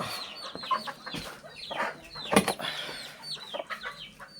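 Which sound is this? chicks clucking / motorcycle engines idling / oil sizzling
chicks clucking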